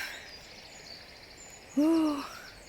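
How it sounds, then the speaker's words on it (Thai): A single hooting bird call, owl-like, rings out once in a forest, fairly clear against a quiet background hush and fading after about half a second. "ชอบบรรยากาศที่มันแบบมีเสียงนกร้องนี่แหละ"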